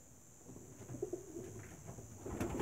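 Ornamental and racing pigeons cooing inside a breeding loft on a hot day, several soft throaty coos rising and falling against a constant high insect-like hiss, fairly close and without speech.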